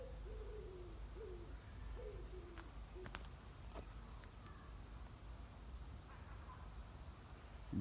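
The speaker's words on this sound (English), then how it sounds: "Listen to that wood pigeon." A wood pigeon coos in woodland near Blackburn on a warm day, a run of soft, low, repeated phrases at moderate distance over a quiet outdoor background.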